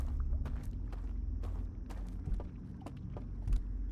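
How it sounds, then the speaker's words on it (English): Footsteps in the video game Outer Wilds: Echoes of the Eye, a steady run of soft, regular thuds, about two a second, over a low ambient drone. "I hear the footsteps."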